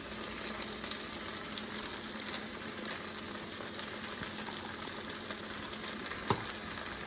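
Chives, peanuts and bean sprouts fry gently in a pan over indirect heat, a steady even sizzle with scattered faint pops and one louder clink near the end.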